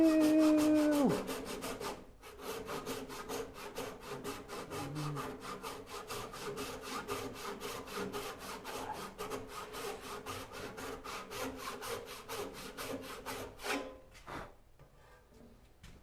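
A hand saw cuts wood clamped in a Moxon vise, a rapid even rhythm of close rasping strokes running for over ten seconds before stopping.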